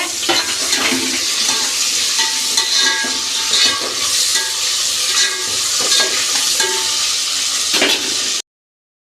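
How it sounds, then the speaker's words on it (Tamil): Onions fry with cloves and cinnamon in a pan for a chicken kulambu, with a loud continuous sizzle broken by close scraping and clattering as they are stirred. "வெங்காயத்தையும் போடுறோம் நல்லா கிளறிக்கோங்க"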